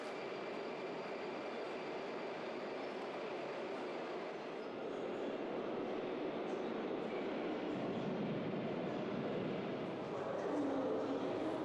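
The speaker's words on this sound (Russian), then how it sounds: "вот сейчас подходит первый поезд" The first metro train pulls into a newly opened Moscow subway station with a sustained rumbling roar that builds gradually, and a faint wheel squeal near the end.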